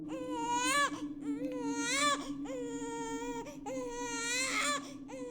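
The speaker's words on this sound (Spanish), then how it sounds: "En eso escuché el llanto de ella." An infant cries in sustained, wailing bursts, loud and close, with brief catches of breath between sobs, used as a sound effect in a paranormal narration set by a crib.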